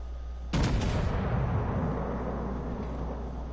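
A single loud gunshot in a PS4 shooter fired at a target cracks sharply near the start, then a long rumbling boom decays under steady background noise, with no talk.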